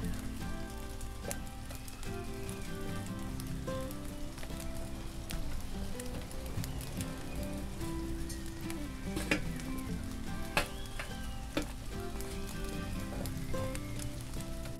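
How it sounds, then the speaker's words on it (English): Heavy rain pours down in a steady, dense hiss, with faint music humming underneath. "It is pouring rain."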